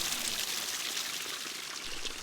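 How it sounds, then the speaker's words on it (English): Spring-fed creek water pouring out of a roadside culvert and splashing below, a soft, steady hiss of falling water, fairly faint and continuous with no voices. "where it ran out of the culvert on the other side of the road, it made for lots of happy splashes."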